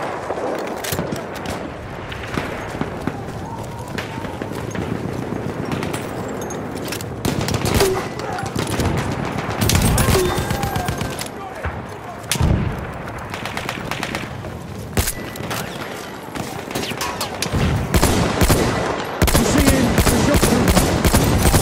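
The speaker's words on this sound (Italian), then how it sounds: "There's a machine gun!" Machine-gun fire in the video game Battlefield 1: sustained, loud rattling bursts with intermittent heavier shots and battle noise, continuing for a long stretch while voices shout over it.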